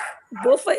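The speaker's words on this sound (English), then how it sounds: "I am going to apologize for the dogs that are barking." Dogs bark and yip in short bursts beneath a person talking, close by and moderately loud, with the barking dominating the latter part.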